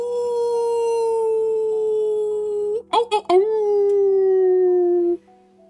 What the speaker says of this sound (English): you hear the distant howl